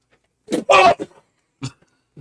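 A few short, harsh throat sounds close by: a quick cough-like burst, a louder rasping one, then a single shorter cough after a pause.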